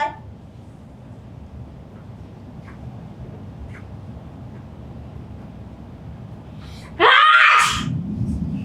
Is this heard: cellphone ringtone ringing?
no